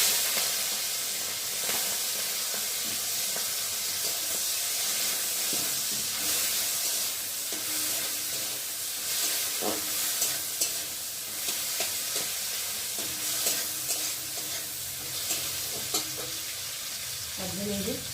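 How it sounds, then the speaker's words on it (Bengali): Prawns fry in hot oil in a pan, giving a continuous loud sizzle and hiss with occasional stirring scrapes and pops close by. "আর এখন আমি এই যে চিংড়িগুলোকে দিয়ে ভেজে নেব।"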